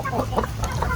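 Farm chickens, heritage and crossbred birds, clucking and murmuring together nearby, a busy continuous flock chatter.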